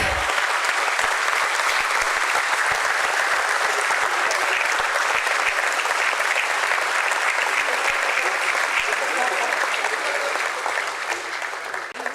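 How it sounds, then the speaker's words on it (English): A long, sustained round of clapping from a crowd at the Nuvama Wealth Management stock exchange listing ceremony, loud and even for about twelve seconds before tapering slightly at the end. "A bigger round of applause."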